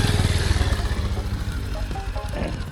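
A Bajaj Pulsar motorcycle engine labours close by while climbing a slippery uphill road in Tangting, Kaski, with a steady pulsing drone and no talk.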